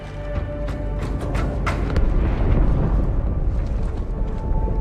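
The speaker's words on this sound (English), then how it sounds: "That explosion came from inside the Athens." In Halo 2, an explosion rips through the inside of a ship, a deep, heavy rumbling blast with crackling bursts that swells and rolls on for several seconds without any voices.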